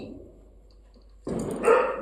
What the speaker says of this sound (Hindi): तीनों के तीनों भौंक रहे हैं